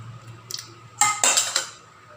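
A cooking pot of Filipino kinamatisang baboy, pork stewed with tomatoes and fish sauce, is lifted off the stove and set aside, giving a few close metallic clanks and scrapes, a brief knock, then a cluster of louder clatters.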